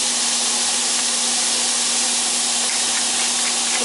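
Sirloin steak sizzles as it is laid in the middle of a hot pan, a loud, steady, broadband hiss that holds evenly throughout with a faint hum underneath and no talking.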